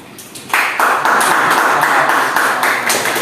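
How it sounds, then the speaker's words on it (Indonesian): A classroom of students bursts into applause for a group, a dense burst of many hands clapping that starts abruptly and holds steady at close range. "Tepuk tangan kelompok."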